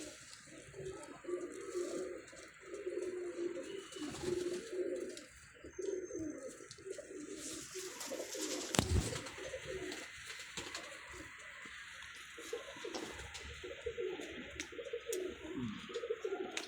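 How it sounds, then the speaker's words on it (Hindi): A pet pigeon coos softly nearby in repeated low, throaty phrases, with a brief sharp knock midway and faint background hiss. "बिल्ला कबूतर है जी, देखिए।"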